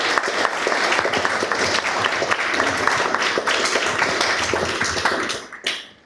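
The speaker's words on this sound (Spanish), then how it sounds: "les pido a todos un aplauso para nuestros nuevos jóvenes académicos" Sustained audience applause rings through a solemn ceremony installing a youth section of a national academy, welcoming new young members; dense clapping holds steady and loud, then tapers off and fades near the end.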